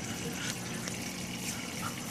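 Protein skimmer runs in a saltwater aquarium sump, a steady close-up rush of bubbling, churning water with a low pump hum underneath, continuous and unbroken.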